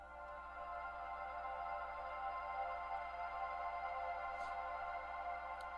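A sustained synth pad drenched in a huge Valhalla reverb drifts slowly between left and right, a steady, quiet, even wash of tone.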